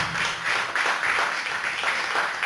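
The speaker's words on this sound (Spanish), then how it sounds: "¿Cuánto le dan un fuerte aplauso al Señor?" Church congregation applauding for the Lord, a dense wash of many hands clapping at once, loud and steady throughout with no voices.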